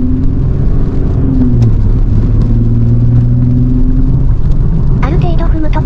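A large-displacement rear-drive V6 car on a rainy night expressway gives a steady, deep engine rumble and road drone, close and loud, with a voice talking over it throughout.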